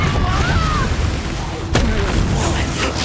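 A Confringo spell explodes in Hogwarts Legacy with one sharp blast midway through, set among ongoing combat rumble and whooshing effects, with voices nearby.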